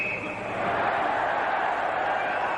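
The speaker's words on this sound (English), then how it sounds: "The crowd roars" A crowd roaring at the 1991 Spengler Cup ice hockey final between Lugano and CSKA in Davos, Switzerland, a broad sustained swell of cheering under a commentator's steady talk, distant and even.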